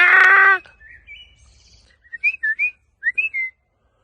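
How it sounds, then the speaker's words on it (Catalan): Birds sing in clear, bright chirps and whistled notes, a short run of separate calls standing alone in a quiet space after a brief loud burst at the start. "els ocells canten"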